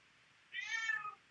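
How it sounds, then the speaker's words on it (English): A single cat meows once, clear and fairly close, a drawn-out mid-pitched cry lasting well under a second against a quiet background. "there's that crazy cat"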